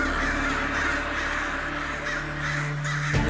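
Crows in a royal court setting caw steadily, a dense, harsh flock sound that fills the scene at close range, ending with a sharp hit.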